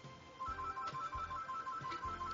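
A phone rings with a rapid, repeating electronic two-tone trill, fairly loud and continuous over low, thumping background music.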